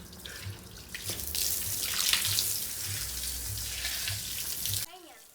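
A tap runs steadily into a sink of dishes nearby for several seconds, a broad hissing splash with faint clatter beneath, then cuts off abruptly.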